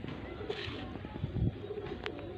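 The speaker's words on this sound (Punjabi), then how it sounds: "ਕਬੂਤਰ ਹੈਗਾ ਇੱਕ" A female pigeon kept by a hobbyist gives a brief low coo close by, a soft rumbling burst over quiet background hum.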